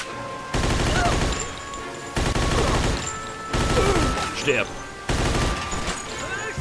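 Bursts of rapid gunfire in the video game Mafia II come in four loud stretches separated by brief pauses, with a voice speaking faintly amid the shooting.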